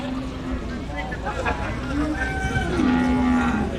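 Cattle mooing at a buffalo and cattle market in Ban Sawai, Thailand: several drawn-out low moos rise over a steady crowd murmur, and someone talks throughout.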